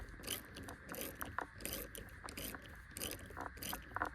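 Ratchet clicking on Toyota 4Runner TRD roof rack bolts as they are backed out slowly, a steady series of close, small metallic ticks in short bursts with brief pauses between.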